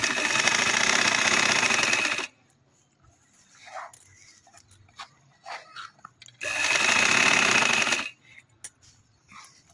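Sewing machine stitching a kurti collar in heavy fabric: two steady, loud whirring runs of about two seconds each, separated by quieter handling clicks and rustles.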